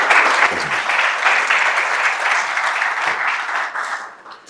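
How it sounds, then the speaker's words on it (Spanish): Audience applause in a Sheraton hotel event hall welcoming a doctor as speaker, steady dense clapping from a crowd that carries for several seconds and fades toward the end. "recibimos al doctor Hernando Barquero con un fuerte aplauso"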